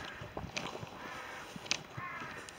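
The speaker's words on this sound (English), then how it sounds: "I don't want to go near the crows." Crows caw in a wood, a few short, faint calls at a distance over quiet background noise.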